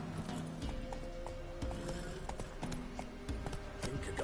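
A horse in a video game trots along, its hooves clip-clopping in a fast, steady rhythm under background game sound and music.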